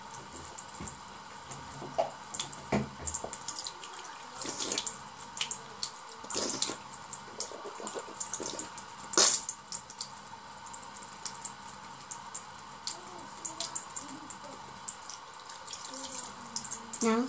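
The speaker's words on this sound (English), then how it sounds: "Now, guys, I'm gonna wash my mouth out." Tap water runs steadily into a bathroom sink during mouth rinsing, a quiet continuous stream broken by splashes and gurgles.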